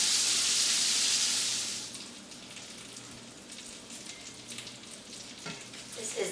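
Andouille sausage fries in a large pot with seasoning added, a loud hissing sizzle at first that drops to a quieter steady crackle with scattered pops and stirring clinks.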